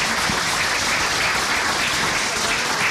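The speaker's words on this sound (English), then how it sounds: "Let's give Molly a round of applause." A room full of people claps steadily, a dense and even wash of applause with no voices standing out.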